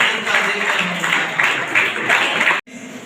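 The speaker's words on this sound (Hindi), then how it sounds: "हम जोरदार तालियां बजाकर" Sustained, dense applause from an audience at a church diocese leaders' training meeting fills the room steadily, then cuts off abruptly near the end.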